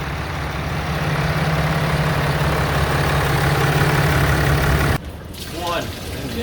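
A Dodge RAM 6.7L Cummins diesel engine idles with a steady low rumble for about five seconds after an engine flush and injector clean, then cuts to quieter ambient noise with faint rising tones.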